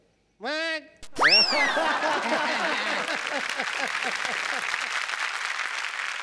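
A studio audience at a Marathi comedy show bursts into loud, sustained applause that follows a springy comic sound effect and carries on steadily to the end.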